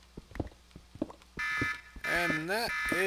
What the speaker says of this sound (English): going to stop the alarm.